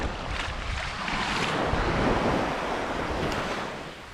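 Surf breaks on An Bang Beach in Vietnam, a broad roar of waves that swells and fades with heavy wind buffeting the microphone and no voices.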